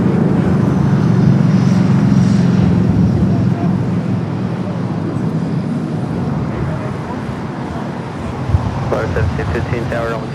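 An Airbus A350 at LAX, bound for Vienna, rumbles during pushback amid airport and road noise, a loud steady drone easing slightly toward the end with a short clatter near the close.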